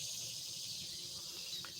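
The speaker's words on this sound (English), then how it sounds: "Yes, those are cicadas." Cicadas call from a tree about 25 feet away, a steady, even high-pitched buzzing drone that holds continuously at moderate loudness with no other sound breaking through.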